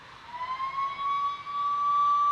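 A siren sound effect on a wrestling broadcast, a steady rising wail that swells and holds loud over a noisy arena-like background, with no talking.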